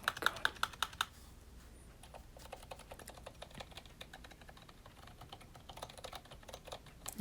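Clacky keystrokes on a GK61 mechanical keyboard with poor spacebar stabilizers, quick close taps in an uneven rhythm with sharper louder hits at the start and end, no voices.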